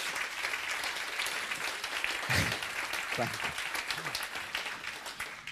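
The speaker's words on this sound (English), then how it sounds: "give a big round of applause to Mr. Daniel Wagner" A seminar audience at a business event applauds, producing a faint, steady patter of clapping that runs the whole time with some murmuring voices mixed in.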